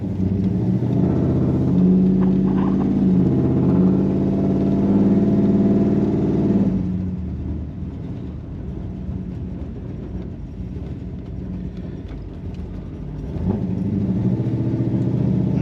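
Car engine running steadily while driving around after pulling out of a driveway, a continuous mid-low drone that eases back partway through and picks up again near the end, close and fairly loud with no talk.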